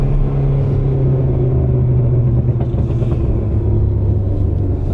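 A Ford Fiesta ST exhaust burbles and rumbles under light throttle in first gear in a parking lot, a loud, continuous low drone with uneven popping texture and no talking.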